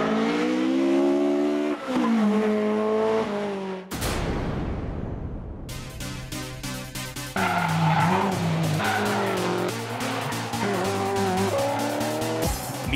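A Lexus LC500 and a Corvette Z51 race on a mountain pass: loud engines rev and roar, tires squeal through corners, and one car sweeps past close by.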